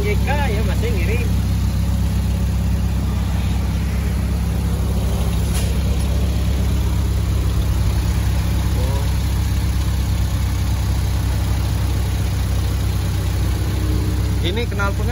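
A Toyota car engine idles through an aftermarket exhaust header, a steady low rumble that holds for the whole stretch while people talk close by over it.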